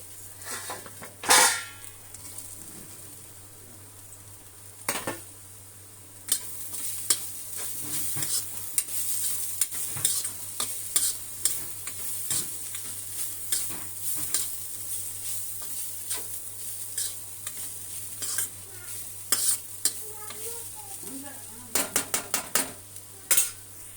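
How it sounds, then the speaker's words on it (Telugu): Carrots fry in a pan while a spoon stirs them, with repeated sharp scrapes and clinks against the metal over a low sizzle and a steady background hum. "క్యారెట్ ఫ్రై ఇది వేగిపోయింది"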